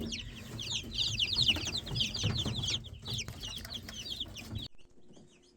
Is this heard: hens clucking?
yes